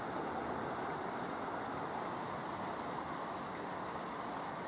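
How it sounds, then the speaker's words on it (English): Rain falls outside during a rainy day, a steady, even hiss of dense droplets with no gaps, heard from indoors near a window. "because it's raining outside"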